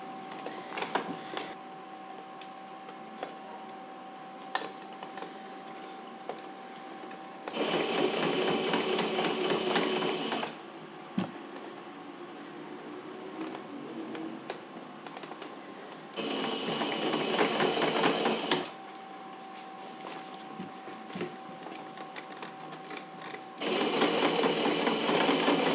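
Domestic sewing machine stitching a small round fabric pouch, running in three steady bursts of several seconds each, separated by quieter pauses with faint handling sounds.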